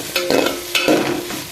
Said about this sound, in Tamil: அதையும் நல்லா வதக்குங்க எண்ணெயிலேயே